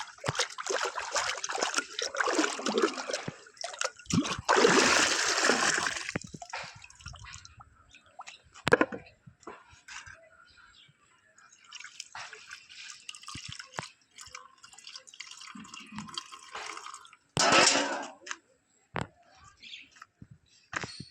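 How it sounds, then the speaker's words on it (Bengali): Hot water poured from a bowl to wash something heavily soiled, heard as close dribbling and trickling with a couple of louder splashing gushes near the start and again later, between quieter drips and handling noises. "আমি জলটা নেবো এখান থেকে, বাটিতে গরম জল রয়েছে"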